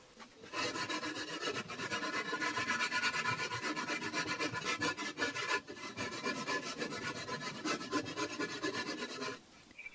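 A rasp scrapes steadily across a block of Ytong aerated concrete being shaped into a penguin sculpture, a continuous coarse grinding with rhythmic strokes, close and even, with no talking.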